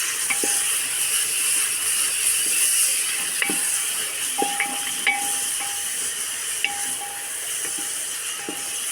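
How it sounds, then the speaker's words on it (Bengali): Onions sizzling and frying in hot oil while beef curry is being cooked, a steady bright crackling hiss with occasional sharper pops and stirring clinks, close and continuous with no talk. "পেঁয়াজ রে সামনে তেল ছিটকাবে, আস্তে আস্তে।"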